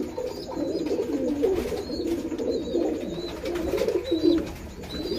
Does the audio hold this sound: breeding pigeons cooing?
yes